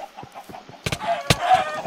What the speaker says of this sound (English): I just killed a chicken and lost half my score.